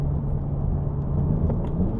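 2022 Subaru WRX fitted with an ETS axleback exhaust, a steady low engine rumble and whir at moderate volume, even and continuous without sharp revving.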